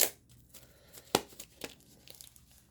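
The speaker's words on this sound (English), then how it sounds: "Just go into the excess of plastic just so I can rip it open" Plastic wrap on a Shout 4K movie box set being slit with a knife and ripped open, giving a sharp tearing rip near the start and middle, with lighter crinkles and rustles between, close and fairly quiet.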